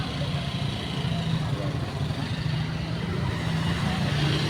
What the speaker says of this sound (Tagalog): Nagka-traffic na.